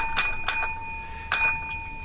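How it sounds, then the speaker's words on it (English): A bell rung in quick bright rings, three sharp strikes with a sustained ringing tone between them, loud and close with no talking. "Seven bells for the drunken designated drivers."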